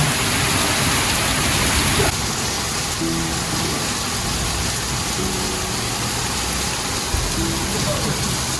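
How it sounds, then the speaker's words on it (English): Rain pours down in a constant loud hiss, with faint low tones and a brief shift partway through. "Look at the rain."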